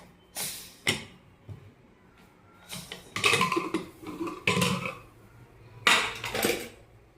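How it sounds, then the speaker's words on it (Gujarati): A pressure cooker holding boiled dal being opened, with metallic clanks, scrapes and rattles of the lid and pot coming in irregular bursts, close and fairly clear. "હવે આપણે કુકર ખોલી"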